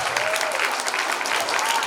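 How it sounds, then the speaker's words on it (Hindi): Audience applause at a skit performance, a loud sustained burst of crowd clapping filling the room without pause. "तो एक बारी फिर से जोरदार तालियां मारिए"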